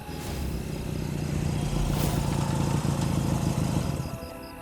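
A vehicle rattles along a rough road in poor condition, its engine droning steadily and close with a continuous clattering texture, fading slightly at the end.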